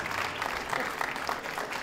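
Conference audience clapping in a hall, a brief burst of dense, even applause from many hands, continuous and moderately loud.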